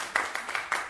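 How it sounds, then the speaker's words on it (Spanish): Sparse, evenly spaced hand claps from people on a video call at an event opening. About four soft, slightly distant claps sound within a second, with no talking. "Estamos aplaudiendo acá."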